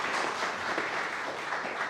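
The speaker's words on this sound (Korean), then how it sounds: "우리 모든 오신 분들께 감사의 박수를 드립시다." Applause from a church congregation at a retirement and ordination service, a steady dense wash of many hands clapping at moderate, slightly distant level, continuous throughout without speech.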